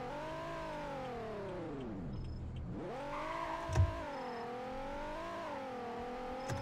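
A car engine in the Roblox game Greenville rises and falls in pitch as the vehicle speeds along, a steady whining drone that dips low before climbing again, with a faint click near the middle and no talking.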